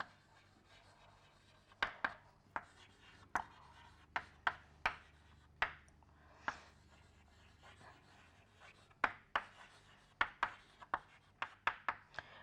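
Writing on a board during an engineering lecture, with sharp, scratchy strokes and taps coming in uneven bursts, fairly close against a quiet room hum.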